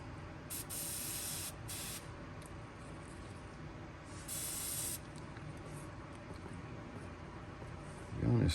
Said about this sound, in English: The gun is spraying kind of wonky.